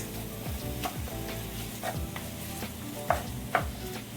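Overnight-seasoned curry chicken sizzling in a pot while being stirred, giving a moderate, steady fry with occasional scraping strokes and two sharper clinks near the end, and no speech.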